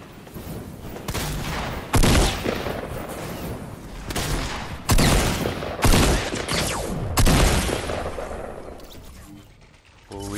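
Gunfire in Fortnite rings out as loud, sharp shots in several bursts, some spaced by about a second, with continuous game noise underneath and occasional faint voices.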